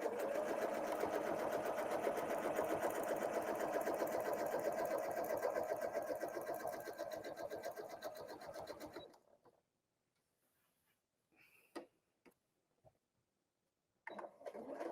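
A sewing machine stitches steadily at speed while quilting fabric guided with rulers, loud and continuous for about nine seconds, then stops, leaving near silence broken by a few short clicks and a brief restart at the end.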